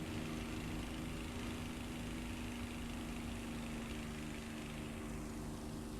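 A Mosquito FB Mk18's twin piston engines in the War Thunder flight game drone steadily as the plane rolls for takeoff, a low, even, faint hum with no talk over it.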